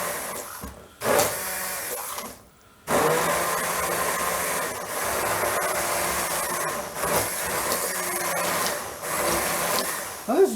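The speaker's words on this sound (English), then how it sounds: "blender, pureeing this up" Blender pureeing turkey soup vegetables, a loud continuous motor whir with brief pauses near the start, then running steadily with slight shifts in pitch.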